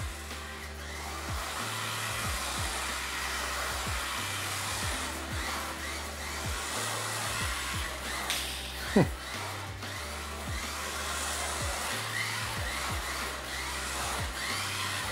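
Small Kamtom 1/32 scale AWD RC drift car's electric motor at full throttle, a steady close whirring whine with repeating pulses and a sharp click near the middle, no talk.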